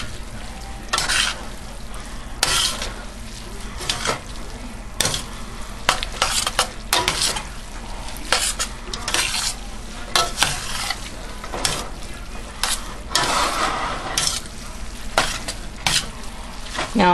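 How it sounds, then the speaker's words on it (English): Drained angel hair pasta is tossed and stirred into a shrimp sauce in a pan, producing a constant sizzle with repeated wet slaps and utensil scrapes in an uneven rhythm, close and fairly loud, without speech. "I'm going to take my angel hair pasta, which I have drained, and I'm just going to incorporate it into this sauce."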